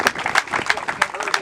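Clapping at the opening ceremony of a U15 summer football camp, with distinct claps at an uneven rhythm and speech-like sounds running through them.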